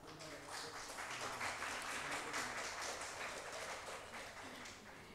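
An audience at a Hamdard Naunehal Assembly event in Karachi applauds a guest, a steady wash of clapping from many hands lasting throughout. It sounds moderately distant, with no talk on top.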